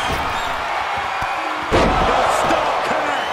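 A heavy slam lands as Seth Rollins hits his Stomp finisher in WWE 2K22, one sharp thud about halfway through over a steady arena crowd murmur.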